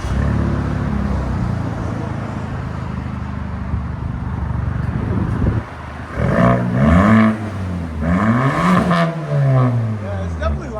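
A 2013 Ford Escape 2.0L turbo with straight-pipe exhaust idles with a steady, close exhaust drone for several seconds, then revs in a series of rising and falling pulls, each climbing in pitch before dropping back.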